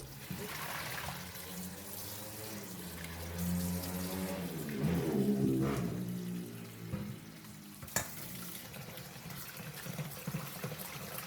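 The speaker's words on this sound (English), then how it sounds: "Rinse them a couple more times until the water is clear again." Soaked mung beans are swished and rinsed in water close by, with sloshing and a soft rattling that swells in the middle.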